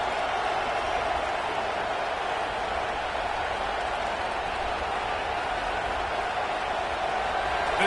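A dense, steady roar of a huge Alabama home crowd at a college football game against Florida State on third down fills the air, loud and unbroken throughout with no pauses.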